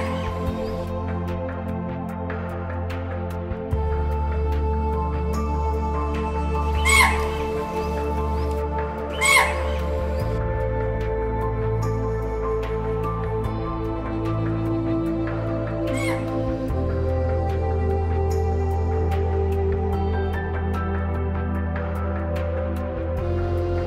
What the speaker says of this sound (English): it stirs up a wave of loud and panicky alarming sounds by deers, langurs, birds, etc.